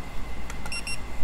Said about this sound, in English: here it goes, dee-dee, it beeps a couple times,